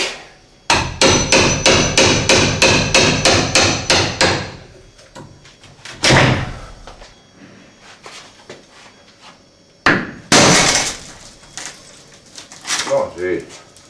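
A hammer striking laminated solar panel glass, first in a quick run of about a dozen loud, ringing blows, then a few isolated heavy hits and a later cluster of impacts, with speech in between.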